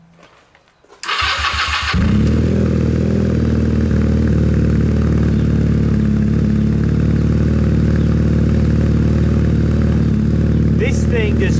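A Honda CB250 motorcycle with the choke on cranks briefly, fires up and settles into a loud, steady, close idle that runs on unbroken.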